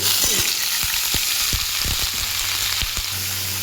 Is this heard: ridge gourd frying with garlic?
yes